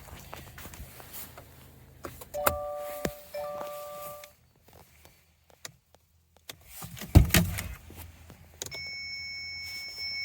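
A 2023 Subaru Impreza sounds its headlights-left-on warning chime: short electronic tones among cabin clicks and door or switch noises, with a sustained chime starting late in the clip.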